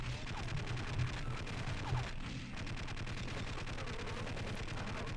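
Automated turret gunfire in Half-Life, a sustained rapid rattle of shots running the whole time at moderate loudness, with a voice talking faintly over it.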